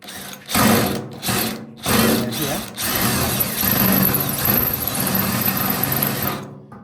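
A power tool cuts out spot welds on a car panel in short close bursts, four whirring runs separated by brief pauses, with a person talking between and over them.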